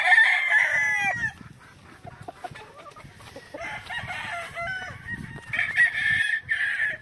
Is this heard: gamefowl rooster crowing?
yes